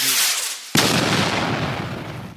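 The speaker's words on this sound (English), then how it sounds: "you get an explosion before the rocket itself can reach the destination that the line touched" A missile trooper's rocket exploding in a fan-made tower defense video game: a sharp, loud blast that cuts in abruptly and decays into a long rumbling roar, with no voices.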